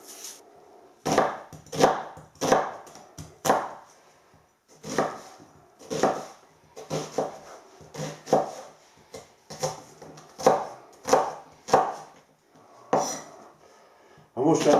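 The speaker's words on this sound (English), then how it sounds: "Let's peel the onion." A knife cuts through a large onion on a board, giving close, crisp chopping strokes in irregular bursts with short pauses between runs.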